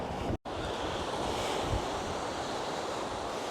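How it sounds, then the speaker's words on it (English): Sea waves wash onto Skegness beach in strong wind, a continuous loud roar of surf and gusting air with a brief dropout near the start and no voices. "Lovely Skegness sea."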